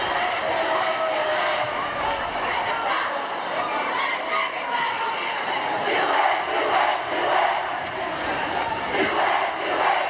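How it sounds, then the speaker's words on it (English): A high school gym crowd at a crosstown boys basketball rivalry game, Fossil Ridge versus Fort Collins, cheering and shouting in a continuous loud roar that swells in waves. "one side's cheering and putting a lot into it"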